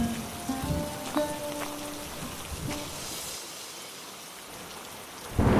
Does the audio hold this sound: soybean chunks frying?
no